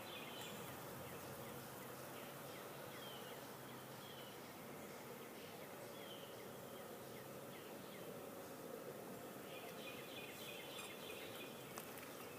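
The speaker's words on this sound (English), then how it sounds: "these bees are very calm. They're not flying up trying to attack near anything" Honey bees buzz around an open hive frame, a steady, close droning hum with individual bees zipping past, faint and continuous.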